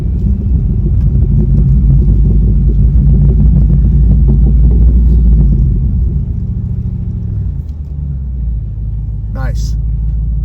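A truck crawls off-road over the slickrock of the Hells Revenge trail in Moab, its engine a steady, loud low rumble throughout with a brief higher-pitched squeak near the end.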